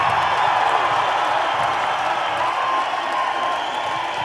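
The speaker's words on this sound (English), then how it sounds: "Give them a round of applause." Crowd at the Hooters International bikini pageant applauding the judges, a sustained wash of clapping with scattered cheers throughout.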